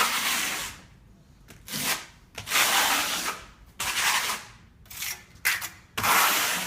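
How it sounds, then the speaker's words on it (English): A steel trowel spreads a first coat of Tonachino Firenze sandplaster across a wall, giving repeated gritty scraping strokes that come in bursts of about a second, separated by short pauses. "The first coat goes on with the steel trowel. Smooth, even coat."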